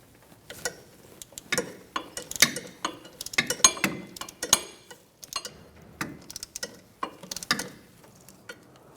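A 10mm socket on a ratchet loosens a rear wheel hub bolt on a 2004-2009 Mazda 3, giving sparse, irregular clicks and ticks close by, with quiet pauses between them and no talking.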